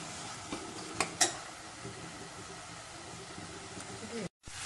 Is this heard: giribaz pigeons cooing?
no